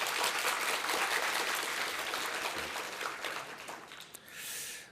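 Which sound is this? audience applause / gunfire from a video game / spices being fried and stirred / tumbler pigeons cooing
audience applause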